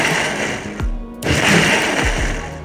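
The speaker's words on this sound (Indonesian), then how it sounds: "Kita blender kasar ya." A kitchen blender roars loudly while coarsely blending chili and shallot sauce ingredients with oil, pausing briefly once before running again.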